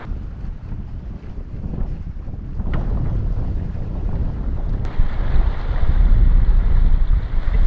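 Wind at sea aboard a sailboat off the Australian coast blows as a steady rumbling roar into the microphone, growing louder toward the end, with no voices.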